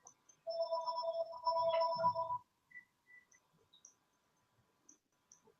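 A telephone rings with two bursts of electronic tone, near and fairly loud, and then gives way to quiet room sounds with a few faint clicks.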